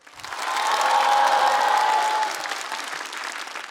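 A stand-up comedy audience breaks into applause that swells quickly, holds full and dense for a couple of seconds, then eases to a lighter patter with some faint cheering.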